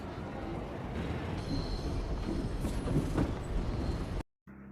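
A train in motion in a film scene gives a steady dense rumble and clatter throughout, with no speech, then the sound cuts off abruptly just before the end.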